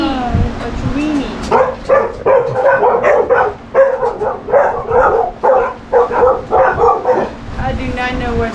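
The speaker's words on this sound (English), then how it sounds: "I do not know what they're barking at." Chihuahuas bark in a run of rapid, high-pitched yaps and yips, loud and close, coming in quick bursts with brief gaps between them.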